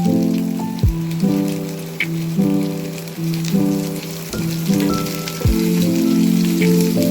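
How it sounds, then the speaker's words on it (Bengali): Ridge gourd frying in a pan with radhuni and ginger gives a steady, close sizzle with crackling, a few brief clunks from stirring, and no voices. "এবার ঝিঙেটা বেশ কিছুক্ষণ ভাজা ভাজা করবো"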